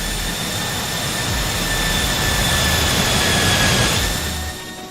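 Thrust reversers roar on a PMDG 737-700 in the Microsoft Flight Simulator game: a loud, steady jet rush with a high whine that swells slightly, then cuts away at the very end.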